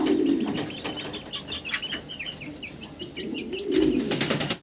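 Fancy pigeons kept for sale coo and flap their wings nearby, with bursts of wing beats at the start and end and soft repeated cooing and chirps in between, no talking.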